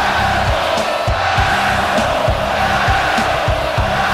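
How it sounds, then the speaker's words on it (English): Crowd reacting in a wrestling video game after a Hell in a Cell championship match at SummerSlam, a steady loud arena roar with repeated rhythmic chants and bellows throughout. "The crowd here not happy that Fae Bartlett retained tonight"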